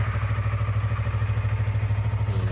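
A 2015 Yamaha MT-03 motorcycle with about 15,000 km on it idles while warming up, giving a steady, even pulsing thrum from close range throughout.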